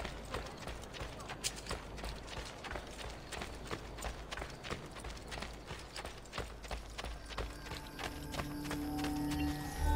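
Hooves of a galloping horse in the Assassin's Creed Brotherhood video game, rapid clip-clop beats that carry on steadily and grow slightly louder toward the end, with a brief whinny-like sound.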